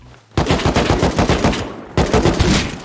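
Rapid bursts of automatic gunfire in the Rust video game, a close, loud volley of sharp repeated shots, a short pause, then another burst.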